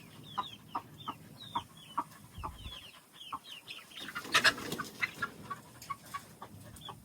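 Chickens cluck in a steady run of short, sharp calls with brief gaps, close by in a farmyard where young birds have just been let out, with faint rustling and scuffling in between and no talk.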